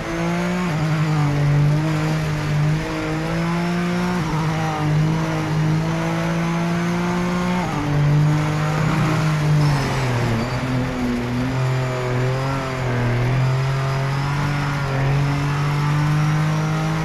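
A race car engine in Project Motor Racing on PS5 drones loud and steady through the whole stretch, its pitch dipping and climbing as the car shifts and squirms on track.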